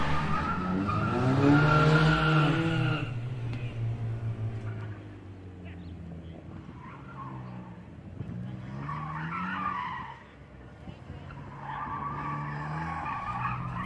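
A car slides around the triad cones on a gymkhana course at a motor club event, engine revving hard with rising and falling pitch and tire skid noise, loud and near throughout, easing briefly before revving up again.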